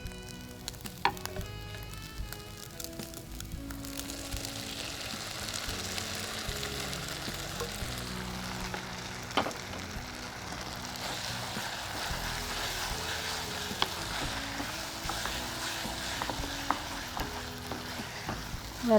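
Ingredients sauté in a pan, giving a continuous soft sizzle with occasional faint stirring scrapes and clicks, fairly quiet and close, with no voices.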